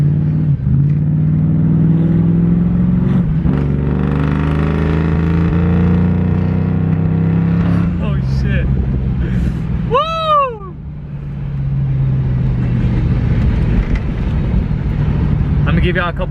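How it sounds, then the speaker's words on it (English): A Foxbody Mustang with new mid pipes rumbles and revs in bursts, its engine note climbing and falling several times while a person talks over it and a brief high, meow-like squeal cuts through. "Give y'all a couple revs here in a bit"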